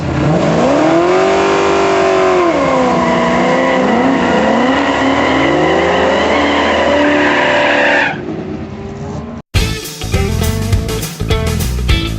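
Loud drag racing cars scream and rev at high pitch with tire squeal at a nighttime drag racing event, then a sudden cut to a rumbling, crackling burst of another car.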